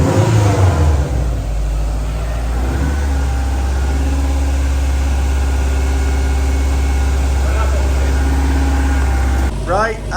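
A rare Prodrive Subaru WRX engine runs loud and steady for a long stretch, with a low idling drone and rises in revs, close to the mic; faint voices are heard under the engine.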